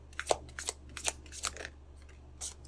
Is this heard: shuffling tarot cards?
yes